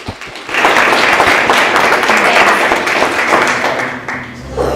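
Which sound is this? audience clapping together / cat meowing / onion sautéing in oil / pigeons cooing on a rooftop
audience clapping together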